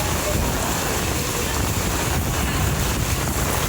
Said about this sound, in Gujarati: એટલો પવન આવે છે ને ત્યાં છત્રી હાથમાં નથી રહેતી